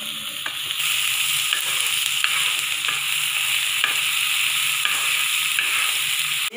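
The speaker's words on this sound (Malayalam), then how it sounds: "നമുക്ക് തക്കാളി കൂടി ഇതിനകത്തേക്ക് ഇട്ട് വഴറ്റാം" Tomatoes sauté in a pan for chole masala, giving a continuous bright sizzle with repeated light scrapes and stirring clicks throughout, close and steady.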